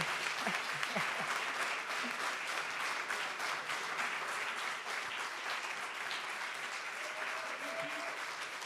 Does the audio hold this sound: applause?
yes